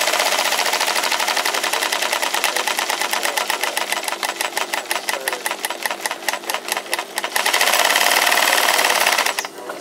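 A Union Special 52800BT industrial sewing machine running loud and close, a dense rapid mechanical chatter of needle strokes that speeds up briefly near the end before slowing, with no voices.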